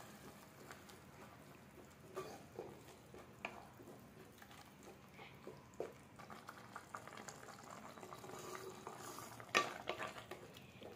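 A thick peanut masala gravy bubbles quietly in a pot while a utensil scrapes and stirs it, with occasional soft clinks against the pan.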